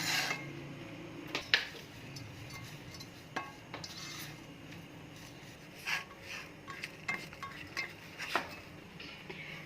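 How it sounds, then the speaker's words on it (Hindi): Salt being stirred with a spoon into chicken paratha filling in a bowl, giving quiet scattered clinks and scrapes of metal against the dish at an irregular pace, close by, with no talking. "इसमें 1 चम्मच नमक डाल लेंगे और मिक्स करेंगे"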